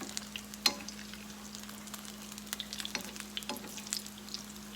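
Crawfish corn fritters sizzle steadily in hot oil, a continuous crackling fry with a few sharper pops and spatters as they are flipped, no voices over it.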